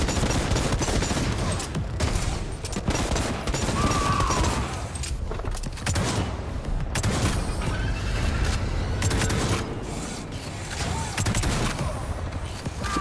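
Bolter gunfire in the video game Necromunda: Hired Gun, a dense, sustained barrage of loud automatic shots with booming impacts that carries on almost without pause, with mechanical clatter beneath.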